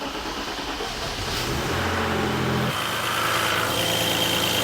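A BMW E34 535i with a 3.7L M30 inline-six settles into a steady, smooth idle close by, its tone shifting slightly as it runs, with no voices over it.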